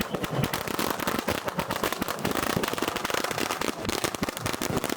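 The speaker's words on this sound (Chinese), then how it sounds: "鞭炮就这么不经意地在人群中被点放。" Strings of firecrackers go off in a crowd at a Miao dragon boat festival on the Qingshui River in Guizhou, a dense, continuous, loud crackle of rapid pops with no break.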